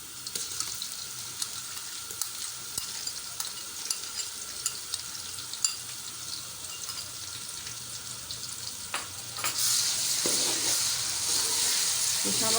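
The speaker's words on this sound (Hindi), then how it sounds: "ये शामिल करके हम इसको 3-4 मिनट तक पकाएंगे, लहसुन अदरक को।" Garlic, ginger and green chili paste frying with onions in a pan for bhindi keema, a continuous close sizzle with faint crackles that swells louder toward the end, with no talking.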